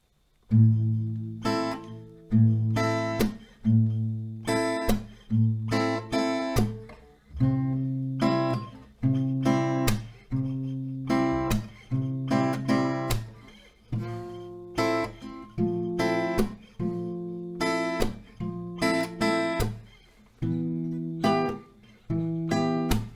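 Acoustic guitar strumming the slow chord progression of a song, each chord ringing out before the next in a steady, unhurried rhythm.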